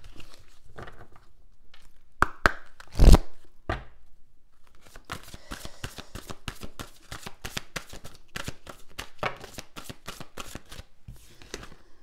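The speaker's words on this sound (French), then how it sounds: "On va prendre quelques cartes de l'oracle de la sagesse soufie." Sufi wisdom oracle cards shuffled by hand, giving a few sharp riffles followed by a long run of rapid, close, crisp card flicks with no talking.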